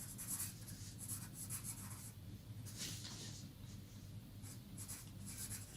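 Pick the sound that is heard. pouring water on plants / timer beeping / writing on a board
writing on a board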